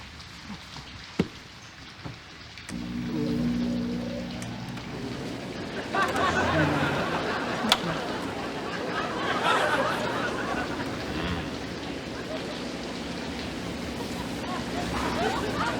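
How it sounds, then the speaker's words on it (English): Steady rain patters continuously in a quiet indoor setting, a soft hiss rising after a few seconds and holding, with brief sounds and some talk mixed in. "The sound of that rain is going to keep me up all night."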